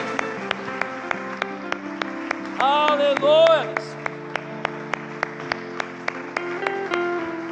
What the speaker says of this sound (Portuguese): Que dê uma salva de palmas a Jesus